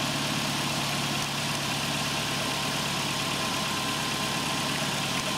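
A 1996 Nissan Altima's 2.4L engine idles steadily during an EGR valve test, a constant low mechanical hum and rumble that carries on without a break and with no talk.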